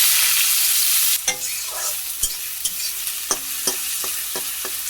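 Chopped onion and garlic hit hot oil with a brief loud hiss, then settle into a quieter sizzle broken by several sharp spoon scrapes and taps against the pan while stirring, with no speech.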